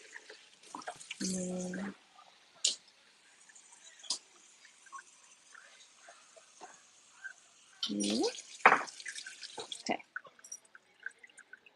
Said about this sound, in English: Okay, cleaning the rice.